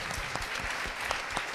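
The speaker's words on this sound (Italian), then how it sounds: "Quindi direi un applauso alla NABA." Applause from an audience at the NABA Cinema Awards event in Milan, a dense, steady patter of many hands clapping throughout the short stretch.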